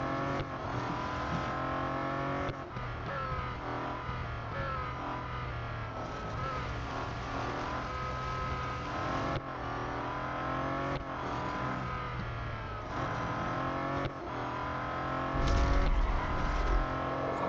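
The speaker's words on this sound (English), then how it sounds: "this is a good old-fashioned noisy engined car." Engine of a Bentley Continental GT Speed in the Real Racing 3 mobile racing game roars continuously, revving up and down through gear changes with tire squeals and a brief thud near the end, loud and steady throughout.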